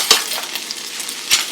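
A spatula stirs browning vegan ground meat in a pan for Cuban picadillo, giving two sharp scraping clicks against a faint, steady sizzle.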